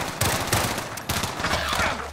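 Rapid gunfire from a gun in a video game, with several loud bursts of shots in quick succession, close and unbroken by talk.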